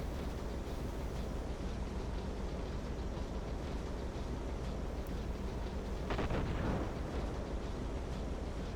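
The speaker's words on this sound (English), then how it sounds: "Yeah, we're gonna see more explosions." Explosions rumble in the submarine game Silent Hunter 3, a continuous deep roar with a brief stronger burst near the end.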